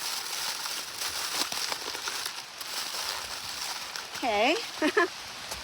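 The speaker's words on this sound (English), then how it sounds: "It's raining. Oh my God, it sounds like it's pouring" Steady rain pours onto a tent at a backcountry canoe campsite on Buckskin Lake, a dense continuous hiss with scattered crackles and patters, while people talk briefly over it.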